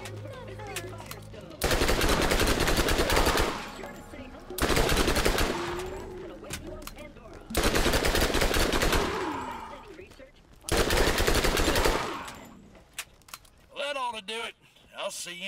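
SMG fire in the video game Borderlands, shot at Skags, comes as four long, loud automatic bursts of rapid shots separated by short pauses, with scattered game noises at the end.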